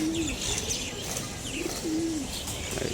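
Pigeons coo softly in a loft with chicks about, two or three low purring calls spread across a few seconds amid faint chirps and background rustle, without speech.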